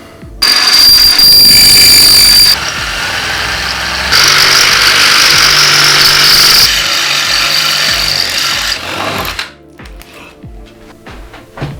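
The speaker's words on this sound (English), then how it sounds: "Drill those preliminary holes, sink them through" A power drill bores holes for the bolts that mount a Sparco Sprint seat to a VW Mk4 seat rail for a 2001 VW New Beetle, whining loudly and close in long continuous runs before cutting off.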